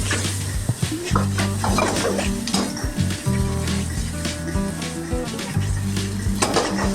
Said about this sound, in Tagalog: Dapat gisa natin yan.